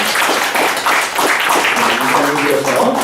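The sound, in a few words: applause welcoming newly ordained pastors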